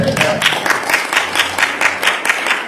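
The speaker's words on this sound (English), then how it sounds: "Let's give yourself a round of applause" Group clapping in a program meeting, a rhythmic, fairly close burst of hands beating together in steady pulses, moderately loud and continuous throughout.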